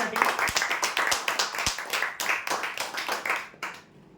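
Applause for a prize winner at a weekly lucky-draw event, several seconds of dense clapping under a faint voice before it drops off near the end.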